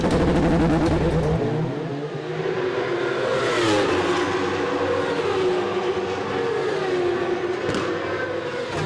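Kawasaki ZX10 superstock racing motorcycles roar past at the 24h du Mans endurance race, a loud sustained engine wail with rising and falling pitch as bikes pass, with no talking.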